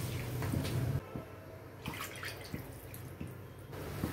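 Water poured into a kadai for semiya kesari gives a close splashing rush for about a second, then softer trickles and drips.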